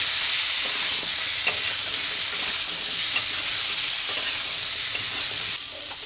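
Potatoes frying in a pan with salt and a little turmeric, a steady loud sizzle with occasional stirring scrapes, for a raw jackfruit and rohu fish curry.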